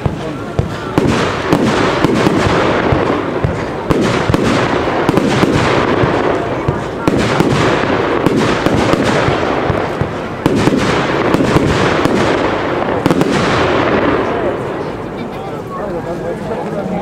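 A 12-shot consumer firework battery of silver strobes alternating with popping flowers: a series of loud launch thumps followed by crackling, sizzling bursts that recur every couple of seconds, close by and continuous.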